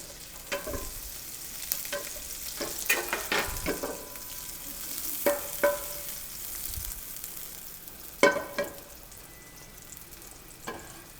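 Butter melting in a regular skillet on the stove, with soft intermittent sizzling and crackling bursts alongside scraping, stirring sounds, moderately close and without talk.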